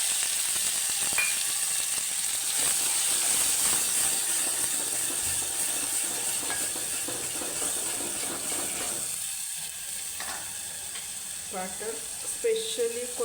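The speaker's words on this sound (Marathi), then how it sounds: "तेल गरम झालं आहे का बघूया झाले त्याच्यामध्ये आपण हे वाटण घालूया" Ground Kolhapuri-style masala paste sizzling in hot oil while cooking a fish curry, a steady broad hiss throughout with a brief disturbance as the paste settles, and small clinks near the end.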